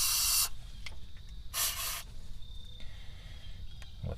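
Carburetor cleaner sprayed through a straw around throttle shaft bushings on a Toyota Tundra or Sequoia, two short sharp hissing bursts close by, separated by quieter shuffling and clicks.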